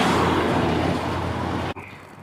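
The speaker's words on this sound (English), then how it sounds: "it's a bit noisy with all the trucks out the front" Trucks pass on the road out front of a house, a steady broadband roar of heavy traffic heard from nearby that cuts off abruptly near the end, leaving a quieter background.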